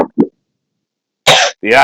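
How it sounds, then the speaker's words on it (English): A person coughs in short bursts: a faint cough, a pause, then two louder, close harsh coughs in quick succession, with no speech. "The cough is coming in."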